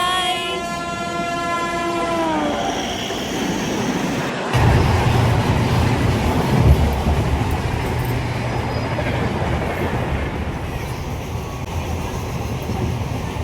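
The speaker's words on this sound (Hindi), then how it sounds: "देखो हमारी ट्रेन आ गई गाइस" A train arrives at a station in Madhya Pradesh, India, its multi-tone horn blaring at the start before giving way to a steady, heavy rumble of rolling wagons close by.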